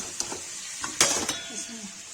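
Chicken liver fried in a pan, with soft sizzling and a handful of close stirring scrapes and light clinks of a utensil against the pan.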